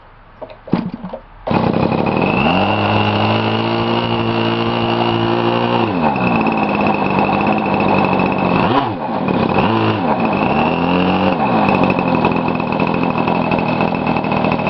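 A Como 40 nitro RC model engine starts after a brief sputter and then idles loudly and steadily up close, its pitch sagging and recovering a few times.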